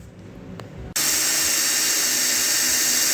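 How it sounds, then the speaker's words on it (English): A brake hone spins inside a pin bore on the front end of a 1958 Oliver 550 diesel tractor, starting abruptly as a loud, steady whir after a quieter hum and running continuously to the end. "So I'm just touching it with a brake hone, and that should do it."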